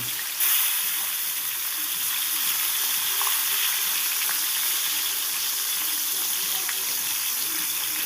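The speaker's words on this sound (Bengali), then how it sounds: "সর্ষের তেল দিয়ে দিয়েছি প্যানে তেলটা খুব ভালো করে গরম করে আমি মাছের মাথা দু পিস ভেজে নেব" Two hilsa fish heads fry in hot mustard oil in a pan, giving a loud, constant sizzle and crackle close up with a few sharp pops, and no talking.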